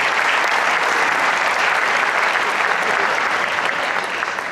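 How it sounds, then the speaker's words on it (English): Loud, sustained applause from a banquet audience at the 2014 Phillies Winter Banquet, a thick, even roar of many hands clapping at once that stays strong throughout. "Round of applause for Scott Franzke."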